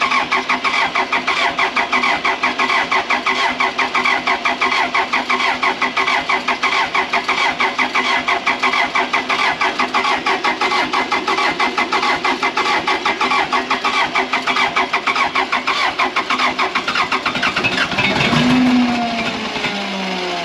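Abandoned Case 450B dozer, left sitting for 15 years, cranking over with a steady rhythmic chug and churn for nearly twenty seconds, close and loud, then briefly catching near the end.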